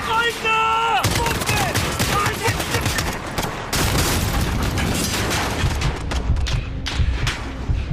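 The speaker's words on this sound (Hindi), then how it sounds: "धमाके पे धमाके किए जा रहे हैं।" Dense Call of Duty Modern Warfare battle with rapid gunfire and booming explosions filling the whole stretch, loud and continuous, with brief tonal radio-like sounds at the start.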